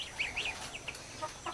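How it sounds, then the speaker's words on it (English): Meat chickens scratching around near the ground give soft, high clucks and chirps in a scattered series, faint and close. "Got some meat birds at my feet. They're down here scratching around."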